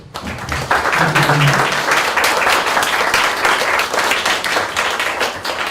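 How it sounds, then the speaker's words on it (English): A forum audience gives a sustained round of applause, dense clapping that rises quickly after a soft start and holds steady and fairly loud throughout. "Please join me in giving them a round of applause."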